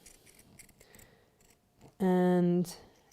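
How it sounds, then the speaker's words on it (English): Pinking shears cut through fabric in one loud, sustained snip of about half a second, rising abruptly out of quiet background noise and then cutting off. "So I use pinking shears because it takes a little bit of bulk out"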